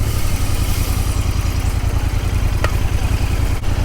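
A motorcycle engine idles steadily and close by at the start of a morning breakfast ride. A continuous low, throbbing rumble carries a light mechanical clatter, with no voices over it.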